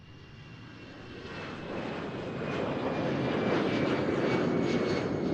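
An EasyJet airliner passes at Amsterdam Schiphol Airport, its broad engine roar swelling steadily louder as it approaches, alone with no talk.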